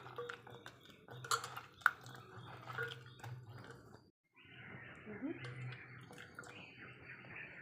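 Cauliflower florets being washed in water: intermittent splashes, drips and light clinks of a bowl, with a short quiet gap midway before the sloshing resumes, fairly close and soft.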